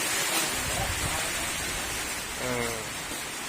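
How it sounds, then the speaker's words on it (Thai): Heavy rain pours down at a mechanic's workshop where a CO2 MIG welder is in use, a loud, steady hiss filling the space, with a faint voice briefly underneath. "โอ้โหฝนตกแล้วนะครับ ฝนตกแล้ว"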